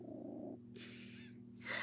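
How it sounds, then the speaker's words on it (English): A cat purrs with a low, steady rumble throughout while kneading, with brief higher rustling or breathy sounds coming and going over it. "I don't know if you guys can hear him purring"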